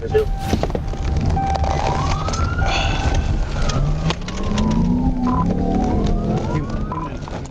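Police car sirens wail and sweep up and down during a nighttime motorcycle pursuit through city streets, loud and close over engine rumble, with a second siren joining partway through.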